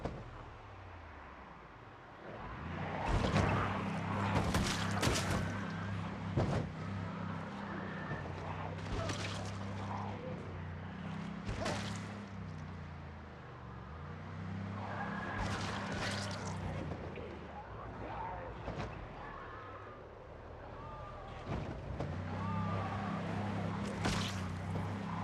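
A car driving in the video game Project Zomboid, with engine hum rising and falling, repeated sharp impact bursts, and talk heard over the top.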